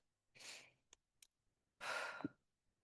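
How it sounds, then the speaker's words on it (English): A slow, deep breath is drawn in and let out as a soft, breathy exhale, a long airy rush with a gap of quiet and small clicks between, close and fairly faint. "deep breath"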